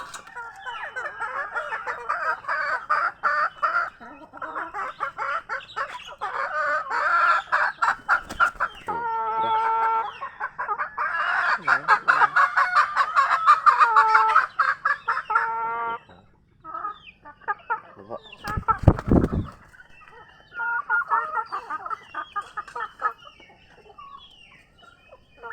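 Chickens and small chicks cluck and peep continuously inside a coop, with a rooster crowing now and then; the birds sound close and busy, with a brief loud thump partway through.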